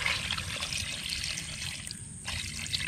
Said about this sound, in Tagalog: lagyan natin yun ng tubig na sakto lang